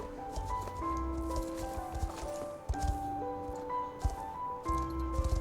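Horse and foal hooves walk along in a video game, a steady clip-clop of footfalls running under a bed of game music with sustained tones.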